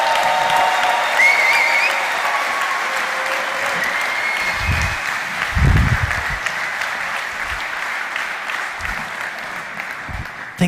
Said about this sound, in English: You can come to me, please, with a big applause.